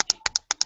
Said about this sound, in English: We can hear you typing and doing paper.